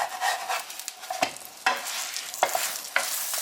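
Leavened flatbread frying in sesame oil in a pan, with a steady close sizzle broken by several sharp scraping bursts as it is turned and shifted.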